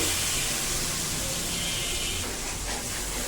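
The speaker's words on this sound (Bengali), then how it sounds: "তেল আমার গরম হয়ে গিয়েছে, এখন হচ্ছে হলুদ লবণ মেখে রাখা মাংসগুলো দিয়ে দেব" Meat marinated in turmeric and salt fries in hot oil, giving a loud, steady broadband sizzle that holds unbroken from start to finish.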